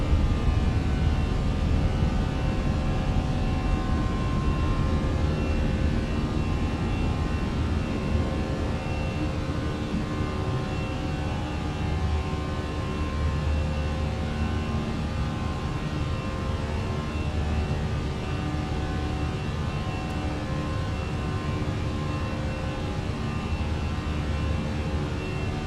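Airliner taking off and climbing in Microsoft Flight Simulator 2020, a steady, loud engine roar with broad rushing noise that holds constant throughout, with no talking over it.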